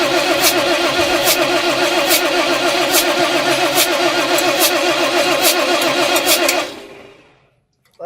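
An Ashok Leyland H-Series six-cylinder diesel engine already running steadily and loud, with a dense rumbling drone and ticking, then cutting out and falling to near silence toward the end; the speaker's words suggest the engine was under repair.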